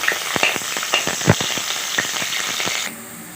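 Onions and green chilies crackle and hiss in oil inside a pressure cooker for country chicken biryani, a close, busy sizzle with stirring taps that cuts off abruptly near the end.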